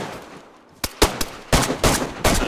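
Gunfire in a video game, an isolated shot followed by quick, loud cracks in short bursts, close and punchy, with no talk over them.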